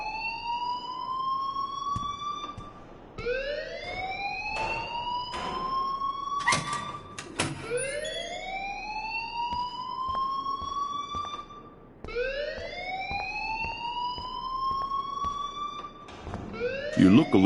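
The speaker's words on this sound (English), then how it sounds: "please turn off that alarm since that's your job" An alarm blares in the Life is Strange video game, sounding as repeated rising siren-like wails, each sweep climbing and holding, with occasional voices and noises alongside.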